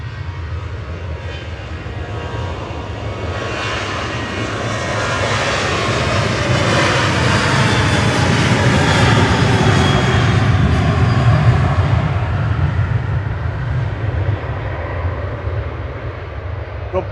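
A Ryanair jet bound for Dublin at Manchester Airport roars past, its broad engine noise swelling from moderate to loud at mid-clip and holding before easing slightly, heard alone without talk.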